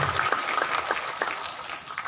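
Applause from the audience at a religious gathering in a Yogyakarta mall, moderately loud and a little uneven, with a few distinct claps standing out from the crowd.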